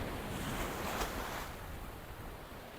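Sea waves wash against an eroding sandy coastline lined with palm trees, a steady broadband roar with a brief swell of surf near the middle, mixed with wind buffeting the microphone.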